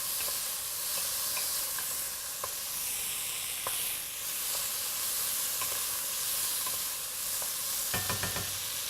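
Chunks of beef searing in a hot pan for a quick beef stew, a continuous close sizzle and hiss with scattered sharp pops and a brief flurry of crackling near the end, no talking.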